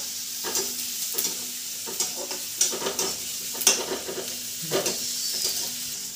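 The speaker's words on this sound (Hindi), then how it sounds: "उसके बाद डालूंगा मैं प्याज। पूरा इसको जलाना नहीं है, थोड़ा सा पिंक कलर बस आए" Onions frying in a pan for paneer bhurji, a constant sizzle broken by repeated scraping stirs of a utensil against the pan, close and without speech.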